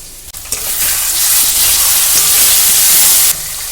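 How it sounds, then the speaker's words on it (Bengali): Boiled chana dal is poured into a pan of pointed gourd fried with spices, and the sizzle swells sharply into a loud, close, sustained hiss before cutting back down near the end. "সেদ্ধ করা ছোলার ডালটা এবার ঢেলে দেব"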